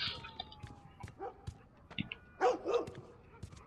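A dog barks repeatedly in the video game The Last of Us, a few sharp barks and yips spread out over the stretch at moderate distance, mixed with faint game ambience and some whimpering tones.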